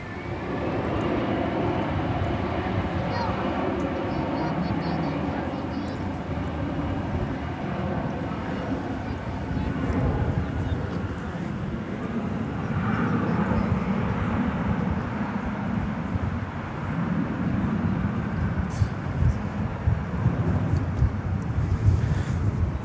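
A jet airliner rolls for takeoff on runway 18 left at DFW Airport, a loud steady roar of engine noise heard from a distance that swells slightly toward the end, with wind rumbling on the microphone.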